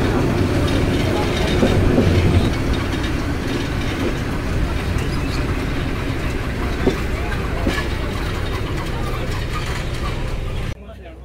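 A train rumbles and clatters close by as it enters Nandina railway station, a steady, heavy roar of wheels on rails, dropping abruptly quieter at the very end.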